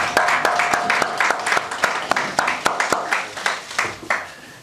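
Applause from an audience at a football club press briefing, a close, lively burst of rhythmic clapping with distinct sharp hand claps throughout, easing off near the end.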